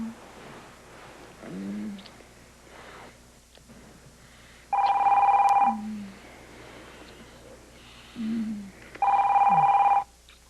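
A telephone rings in two long electronic bursts several seconds apart, loud and close, with quiet murmuring sounds between the rings.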